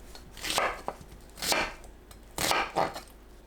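A knife chops onion on a cutting board, several crisp, close knocks in uneven bursts with short pauses, in a quiet kitchen.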